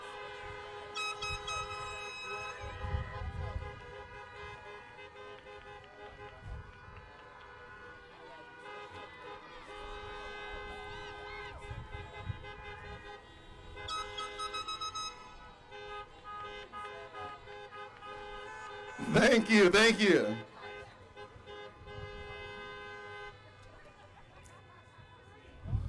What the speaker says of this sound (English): Honk those horns, blow those whistles, make some noise for all of our students today.